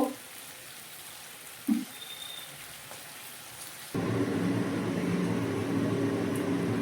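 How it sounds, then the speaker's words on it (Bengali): Fried chicken pieces tipped into sauce in a cooking pan set off a sudden dense sizzle partway through, after a quieter stretch with a couple of soft knocks, and the crackle then continues steadily. "এবার দিয়ে দিচ্ছি ভেজে রাখা চিকেনগুলো।"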